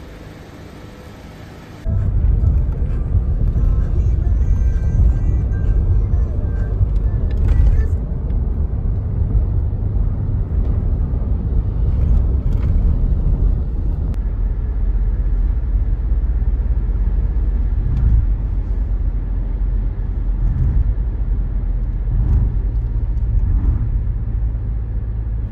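A car driving to the airport in the early hours, a steady loud low road rumble and engine drone from inside the cabin, beginning abruptly after a short quieter moment and continuing evenly, with occasional talk.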